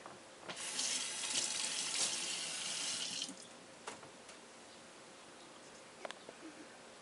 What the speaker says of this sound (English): I'm going to wash my hand again to keep it clean.